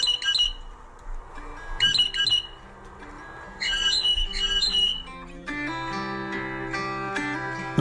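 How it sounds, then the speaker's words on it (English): A blue jay gives harsh, raspy alarm squawks in three loud bursts, each a quick run of grating notes, before sustained tonal music takes over in the final seconds. "the sounds of Cyanata cristata, the blue jay"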